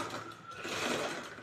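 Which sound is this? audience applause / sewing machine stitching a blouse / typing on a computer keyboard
sewing machine stitching a blouse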